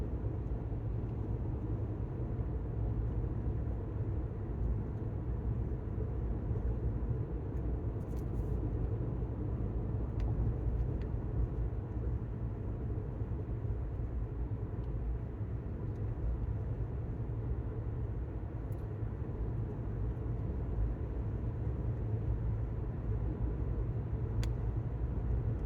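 Chevy Bolt 2LT electric car coasting down a mountain road, a steady low rumble of tires and road noise with faint wind, continuous and even throughout with no engine note.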